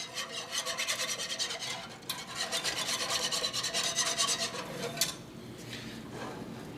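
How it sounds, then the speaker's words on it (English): A whisk scrapes and clicks steadily around a pot of soft-serve custard mixture as it warms, a fast rhythmic rasp that runs on with a brief pause and a sharp clink near the end. "Now you just want to whisk this in."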